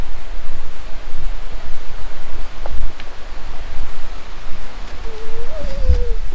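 River near the Dudhsagar waterfall in Goa, a steady broad rush of flowing water with wind buffeting the microphone, plus a faint passing tone near the end.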